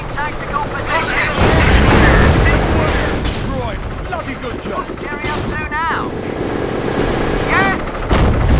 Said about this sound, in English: We got a sweeping barrage, sweep 2 degrees.